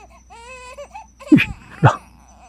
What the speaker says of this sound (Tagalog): Iyak ng bata yun mga lods ha